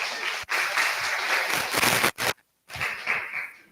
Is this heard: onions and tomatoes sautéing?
no